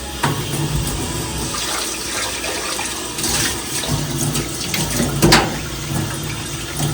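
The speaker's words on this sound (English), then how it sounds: "I like to use hot water." Hot water pours steadily from a tap into a sink while a blender is washed, a continuous rushing splash with a few clinks and knocks, no one speaking.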